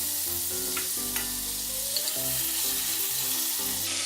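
Onions fry in cooking oil and butter, giving a continuous close sizzle and hiss, with a soft stir or clink now and then over a rhythmic low hum in the background.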